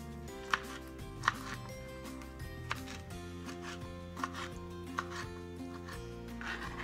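A knife cuts through raw chicken breast on a board before baking, giving quiet, soft, irregular taps and slices at close range over a steady background hum.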